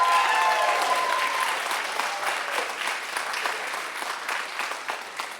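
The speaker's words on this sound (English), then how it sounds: "if you would please give a similar round of applause to Stacy Hines" A live audience applauds an interpreter at a one-person stage performance, with steady, full applause that slowly eases off over several seconds and no voices above it.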